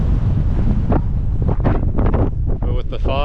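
Strong wind on a foggy, misty hilltop in St. John's during a storm buffets the microphone with loud, gusty rumbling, while a person talks faintly underneath.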